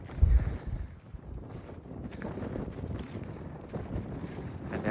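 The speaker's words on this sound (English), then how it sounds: "You can hear the wind." Wind blows across a mountain saddle on the Cape Wrath Trail, gusting and buffeting the microphone with a steady rushing roar.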